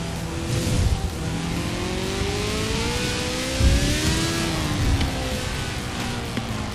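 A car in the racing game Forza Horizon 4 accelerates with a steady, rising engine drone, its pitch climbing and dipping as gears shift, loud and continuous with brief low thumps, no talk.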